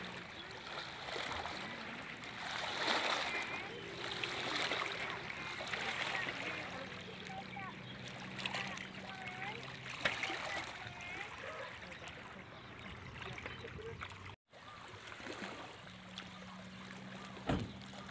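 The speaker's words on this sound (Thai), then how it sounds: "ก็เป็นคลื่นเบาๆครับช่วงนี้ลมไม่ค่อยแรงนะครับผม" Gentle, faint waves lap on the Pa Sak Jolasid reservoir on a light-wind morning, a soft continuous watery wash with scattered small splashes and trickles.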